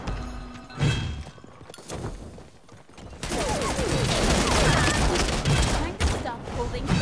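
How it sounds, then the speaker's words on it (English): Gunfire in the video game Realm Royale: scattered shots at first, then a dense, loud, sustained barrage of rapid fire filling the second half. "There's someone shooting at you."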